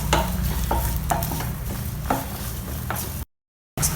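Curry leaves, ginger and slit whole green chillies fry in a pan with a steady close sizzle, broken by several sharp stirring scrapes, before a brief moment of silence near the end.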